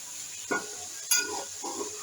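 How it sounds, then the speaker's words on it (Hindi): Chong, salted and washed, dropped into a cup of hot oil in a pot, with a soft steady sizzle broken by a few sharp clatters and stirring scrapes, fairly quiet and close. "ऑयल गर्म हो गया से हम ये चूंग डाल देंगे।"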